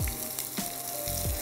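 Onion sizzles and crackles steadily in hot oil, with a few brief clinks and stirring scrapes over the frying.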